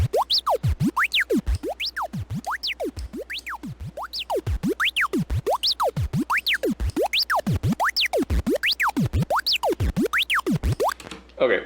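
A rectified sine wave glitch pushed through a limiter repeats as rapid synthetic boing-like pitch sweeps, rising and falling in a steady pulsing rhythm, loud and close throughout before cutting off near the end.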